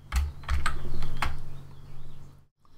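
Computer keyboard shortcut keys are pressed, such as a copy command. A few close, crisp keystrokes click in quick succession, then the sound drops to quiet.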